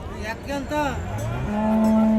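A bull calf lows at a native cattle market in Kundarapalli, giving a few short calls and then a longer, steady, close bellow over the busy market background.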